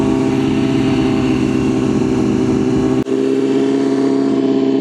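Motorcycle ridden on a highway, a loud, steady close engine drone with wind roar that cuts off abruptly about three seconds in, then continues at the same level.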